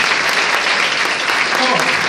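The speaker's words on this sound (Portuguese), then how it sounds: "Agora vamos aplaudir Jesus." Church congregation applauds loudly and steadily in praise of Jesus, dense clapping filling the whole moment with a few voices calling out near the end.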